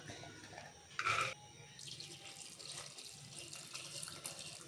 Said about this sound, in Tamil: இது குக்கரில் போட்டு தண்ணி ஊற்றி ஒரே விசில் வச்சுக்கலாம்